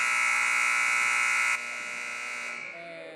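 A long, loud electronic buzzer sounds at the end of a quarter in a girls' basketball game, holding steady before dropping in level and fading out.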